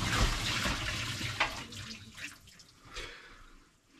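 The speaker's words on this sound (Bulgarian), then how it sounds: "И тая вода отива в мивката." Water poured from a bowl into a kitchen sink, a loud splashing gush at first that tapers into softer trickles and drips, with brief clinks of the bowl.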